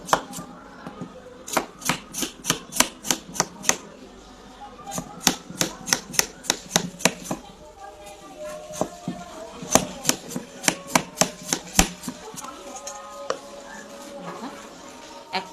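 A knife peels pointed gourds (potol) in quick, crisp strokes that come in rhythmic bursts of close tapping scrapes, with short pauses between runs.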